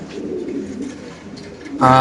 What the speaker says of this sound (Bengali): একটু লারা দেন তো কবুতরটা।